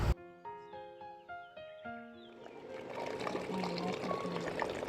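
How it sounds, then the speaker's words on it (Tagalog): Hot water poured into a pot where pork hock is boiling for nilagang pata, first heard over a stretch of ringing metallic tones from the pot, then a broad, steady rush of pouring liquid that fills the second half. "Naglalagay ako dito na ng mainit na tubig para mas mabilis kumulo."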